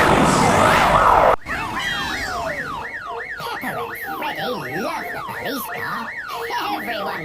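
Wailing police car siren in a children's cartoon, sweeping up and down in a steady rapid cycle, loud and close, preceded by a brief burst of other music-like sound before a sharp cut.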